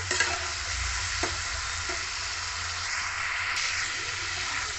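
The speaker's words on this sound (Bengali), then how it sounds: "তেল থেকে এখানে মশলা ছেড়ে যাচ্ছে ভালো কষা হয়ে গেছে" Ground spice masala frying in oil hisses in a steady, even sizzle while it is stirred, with a few faint utensil taps and no voices.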